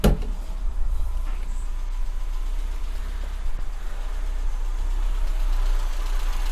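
An Austin Metro's engine idling steadily just after starting for the first time in years, a low, continuous rumble close by with a faint start transient at the beginning and no talk.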